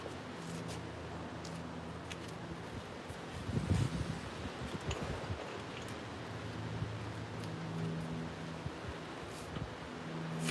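Wind blows outdoors as a steady soft rush with rustling, gusting briefly louder partway through, faint and distant with no talking.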